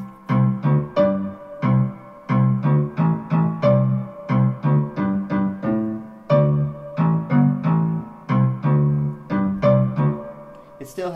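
A very high D melodic note repeats over a steady kick drum rhythm, a clear looping pattern of thumping beats and bright pitched hits played alone.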